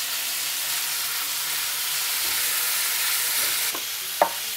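Pork fried with chili paste gives off a continuous close sizzle as it is stirred in the pan, with a couple of sharp scraping clinks of the utensil toward the end.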